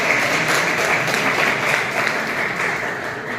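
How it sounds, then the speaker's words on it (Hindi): A crowd claps steadily at a district-level innovation seminar, a continuous, even wash of applause that tapers slightly toward the end. "आप लोग तालियां बजाते रहिए"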